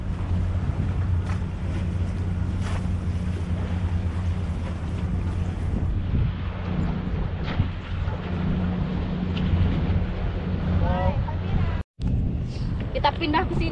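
Strong sea wind buffets the microphone with a steady, loud roar while surf crashes along the shore during a storm, a continuous heavy rumble with brief gusts and a momentary dropout near the end.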